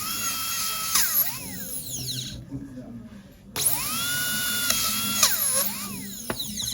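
A dental drill whines at high pitch while beveling a tooth during a diastema restoration, cutting in steady bursts with a brief pause midway and short chirps as the pitch bends, heard close-up with faint talk in the background.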